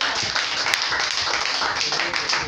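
A church congregation applauds and cheers for Jesus, dense, continuous hand clapping at a steady level with crowd noise mixed in.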